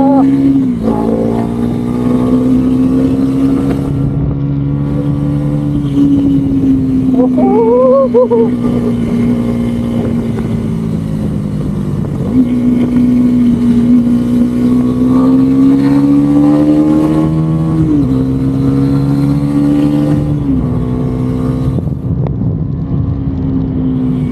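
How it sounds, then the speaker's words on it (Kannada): A Bajaj NS400Z motorcycle engine drones loudly and continuously at a dealership launch event, its pitch climbing and dropping through several revs and gear changes, with some voices faintly mixed in. "ನೋಡ್ಬೋದು ಬರೋ ಹೆಂಗೆ ಅಡಿಯುತ್ತೆ ಗಾಡಿ."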